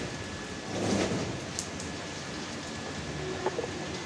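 Steady, faint rain patters down outdoors while a pigeon feeds in it, a soft continuous hiss with a slight swell near the start and no voices.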